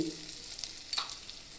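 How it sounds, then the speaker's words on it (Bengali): Spices fry in hot oil in a pan, giving a soft, steady sizzle with faint stirring scrapes and small crackles, quiet and close. "মশলা মোটামুটি আমার ভাজা হয়ে গেছে"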